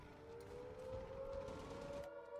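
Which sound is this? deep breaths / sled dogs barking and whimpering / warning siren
warning siren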